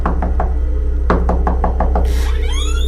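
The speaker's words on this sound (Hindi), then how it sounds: "दरवाजे पर दस्तक हुई।" Knocking on a bedroom door late at night: loud, close raps in two quick bursts, a few blows then a longer run of several knocks, followed by a shrill rising-and-falling tone over a steady low hum.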